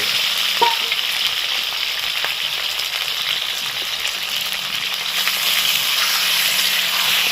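Chicken pieces fry in a hot pan, a steady loud hiss and sizzle with a few brief stirring scrapes near the start, continuous to the end without speech.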